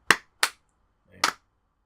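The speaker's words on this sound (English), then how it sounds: "Let's do like a wave clap, all right?" Three separate sharp hand claps from a small group trying a wave clap, uneven in spacing and fairly quiet, the last one slightly smeared and doubled.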